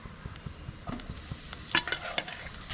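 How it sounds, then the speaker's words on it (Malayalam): Spiced masala frying in hot sunflower oil, stirred with a spoon: a steady low sizzle under repeated scraping strokes, close and moderately loud, with sharper clacks toward the end. "ഈ മസാല നന്നായിട്ട് നമുക്കൊന്ന് ചൂടാക്കി എടുക്കണം നന്നായിട്ടൊന്ന് ഇളക്കി കൊടുക്കുക"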